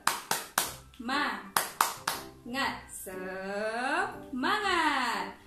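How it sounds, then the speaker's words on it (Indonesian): Young schoolchildren in a classroom perform a rhythmic spirit clap, sharp bursts of two or three quick claps alternating with chanted voices, the group clapping and calling out together in a lively, patterned routine. "Tepuk semangat"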